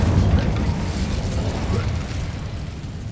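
Incendio fire spell cast in the Hogwarts Legacy video game, a dense roaring fiery blast that stays loud and low-heavy for about three seconds, slowly easing off.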